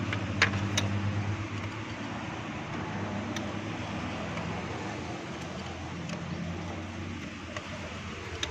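A Mini Pajero engine with a misfire from oil-fouled spark plugs runs at idle close by, a steady low rumble with a faint uneven pulse and fan-like hiss, continuous with no talk.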